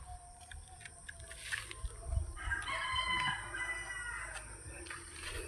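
A rooster crows from a short distance near a chicken coop, the drawn-out call rising and holding over a hum of background noise, with faint other birds around.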